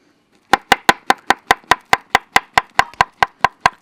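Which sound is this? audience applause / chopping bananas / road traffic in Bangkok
chopping bananas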